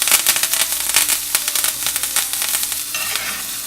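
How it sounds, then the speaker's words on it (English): Thyme leaves dropped into a hot skillet alongside steak, popping and sizzling loudly and steadily with dense crackling bursts throughout, close up and with no talking. "You'll be able to hear these pop and sizzle when I put them in."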